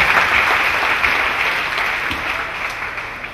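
A church congregation claps together at a deliverance session, dense steady applause filling the space, close and loud throughout with no speech over it.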